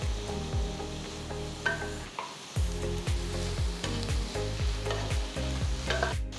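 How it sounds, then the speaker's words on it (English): Tomatoes, cashews, melon seeds and Kashmiri red chillies sautéing in a pan, a close sizzle broken by regular scraping strokes of a spoon stirring, with one brief pause partway through. "Saute the ingredients till the tomatoes are nice and mushy"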